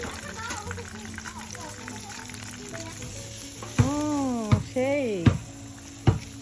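Loitta fish, the Cox's Bazar specialty, fries outdoors with a steady close hissing sizzle of hot oil that persists throughout while a person talks over it.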